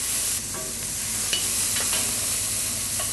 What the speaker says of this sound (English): I'm only sauteing about a minute and a half because I cut them on a smaller dice.